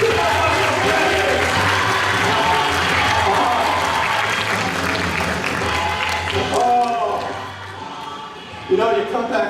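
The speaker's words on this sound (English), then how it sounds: "Let's give Becky a huge round of applause." A comedy magic show audience breaks into a round of applause for a volunteer, dense crowd clapping with some cheering that thins out toward the end, followed by a voice starting to speak.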